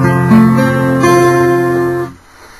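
F barre chord strummed on a guitar, ringing steadily for about two seconds before being damped, with no voice over it.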